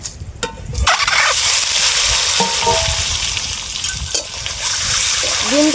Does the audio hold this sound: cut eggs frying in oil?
yes